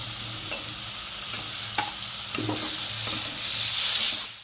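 Fried potatoes sauté in a pan for an eggplant, potato and lentil dumpling curry: a steady sizzle broken by four or five distinct scraping stir strokes, close and fairly loud. No one speaks.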